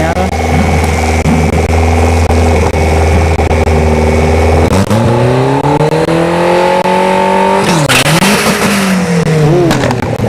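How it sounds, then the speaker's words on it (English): A turbocharged Mazda Miata roars loud and close at a dragstrip, its engine holding a steady drone before the revs swing sharply up and down through several bursts, with a second engine rumbling faintly beneath. "we've got the Miata, turbo Miata."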